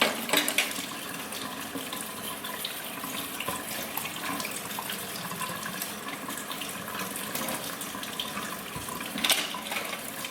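Tap water runs steadily into a sink as a makeup brush is rinsed under it, a continuous close splashing hiss with a brief louder burst near the end.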